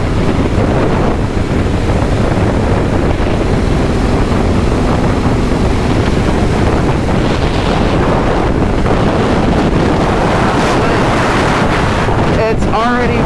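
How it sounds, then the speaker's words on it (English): Stiff, cold wind buffets the microphone outdoors at night, a loud continuous rumbling roar with gusts throughout, faint voices underneath. "It's already like a stiff wind."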